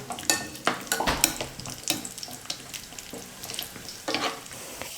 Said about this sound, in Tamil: முந்திரி கொஞ்சம் எடுத்து வச்சுருக்க அதை சேர்த்துக்கிறேன். நல்லா பொன்னிறமாக வர வரைக்கும் வறுத்துக்கலாம்.